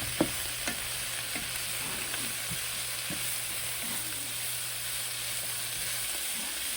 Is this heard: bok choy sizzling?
yes